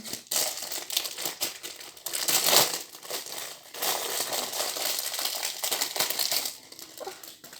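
Plastic packaging around a soap mould is torn and crinkled open up close, a continuous crackling, rustling crinkle with several louder bursts, without any speech.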